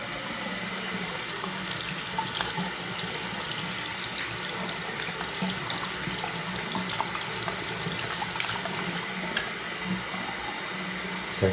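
Tap water running into a sink as a patina-treated metal piece is rinsed underneath, a continuous close splashing hiss lasting throughout with no talking.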